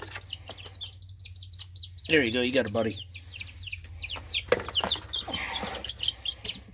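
Baby chicks peep repeatedly in high, sharp chirps close by, while someone speaks briefly over them.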